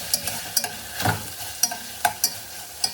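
Sausage meat for a lasagna meat sauce frying in a pan, a soft sizzle broken by about eight sharp scrapes and clacks of a utensil stirring and breaking up the meat, with no voices.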